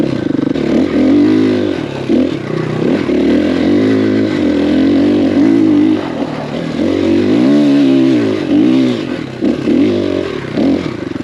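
A KTM 500 EXC-F dirt bike engine revs loudly and close, rising and falling through repeated throttle blips with a rough, throbbing exhaust note.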